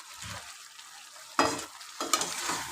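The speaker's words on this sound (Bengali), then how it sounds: "এর মধ্যে এবার এই যে গোটা গোটা পেঁয়াজগুলো এইভাবে তুলে দেবো।" Whole onions go into a pan for a chicken curry and are stirred, two bursts of loud scraping and sizzling over a quieter background hiss.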